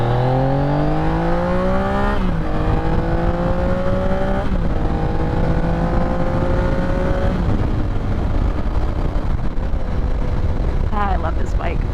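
A motorcycle engine revs loud and close while riding, its pitch climbing and dropping through several gear changes over steady wind rush, with a voice heard faintly beneath.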